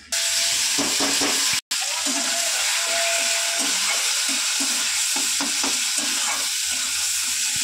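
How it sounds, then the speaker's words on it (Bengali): Sliced onion dropped into hot oil, a sudden loud, steady hiss and crackle of frying that continues unbroken, with occasional stirring scrapes over the top. "তেল ভালোভাবে তেতে গেছে, আমি কিন্তু এবার পেঁয়াজটা দিয়ে দেবো।"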